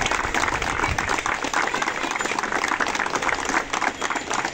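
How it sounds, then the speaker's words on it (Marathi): Villagers applauding together at a temple gathering, a dense, sustained wash of clapping from a crowd that holds at an even level for several seconds. "जोरदार टाळ्या ग्रामस्थांच्या वतीनं"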